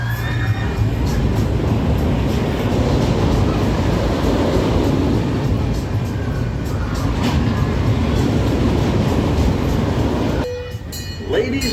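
A Kemah amusement train rolls along its rails, a loud continuous rumble and clatter of wheels close by, with faint voices mixed in before the noise drops away near the end.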